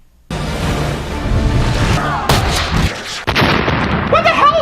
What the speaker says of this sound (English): Hey, put the safety on those cannonballs!